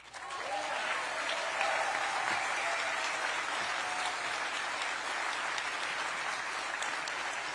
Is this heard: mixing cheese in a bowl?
no